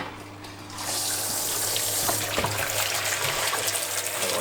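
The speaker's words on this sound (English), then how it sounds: "I'm going to use a pump and I'm going to pump the water out" A pump draws water out of an aquarium sump while a reef tank is being relocated, giving a steady rushing flow that starts after a quiet moment and continues without a break.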